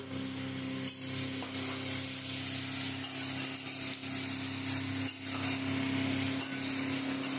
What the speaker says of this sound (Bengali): আদা রসুন বাটাটা দিয়ে ভেজে নিচ্ছ তাই তো?